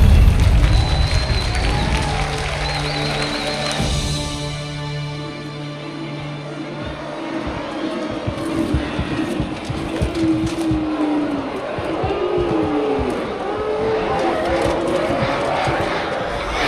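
A crowd cheers and roars in a Halo 2 Anniversary game cutscene, with loud swelling noise and scattered shouts under the orchestral music, and a voice speaking near the middle.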